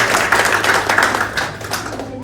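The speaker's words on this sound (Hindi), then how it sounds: "तालियां होना चाहिए।" A seminar audience at a network marketing event claps loudly and rapidly in a dense burst of hand claps, with some voices mixed in.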